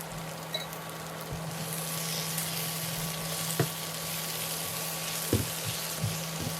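Onions sautéing in a pan for a Tamil-style prawn fry, a steady sizzle with occasional scraping stir strokes, close and moderately loud, with no talking.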